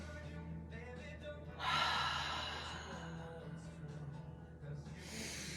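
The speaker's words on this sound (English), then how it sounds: "2 deep breaths." Two slow, deep breaths are drawn in and let out while seated in a chair stretch with a twisting reach, an audible close inhale followed by long exhaled air.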